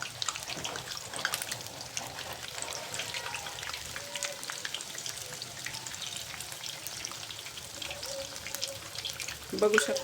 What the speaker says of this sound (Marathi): मस्त टम्म फुगले तर असे छान तळलेले काढून घ्यायचे